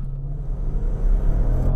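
A 550 hp supercharged V8 in a Range Rover Velar SV Autobiography gives a deep, steady rumble, revving while held on the brake before launch.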